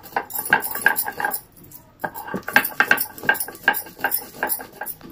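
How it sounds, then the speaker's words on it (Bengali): Dry spices being ground to powder on a shil nora grinding stone, with stone scraping and knocking in an irregular rhythm of sharp taps and rubs, up close, with a short pause midway. "শুকনো আগে করে নিচ্ছি, পরে তো শিলনোড়া ভিজে যাবে, তার জন্য শুকনো আগে মশলাটা গুঁড়ো করে নিই"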